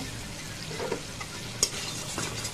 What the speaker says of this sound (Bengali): এখন আমি এখানে মাছ দুটো দিয়ে দিব